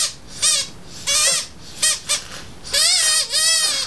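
Squeaking noisemaker taken from inside a rocking animal toy, sounding off in five or six short, wavering squeals at close range, some quick and clipped, the last two longer and drawn out, with no talking.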